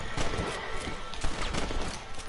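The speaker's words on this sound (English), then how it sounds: "I'm running towards the sound of gunfire." Gunfire in the video game Red Dead Redemption, a busy burst of overlapping shots like a distant fusillade, steady and fairly dense for a couple of seconds with no talking.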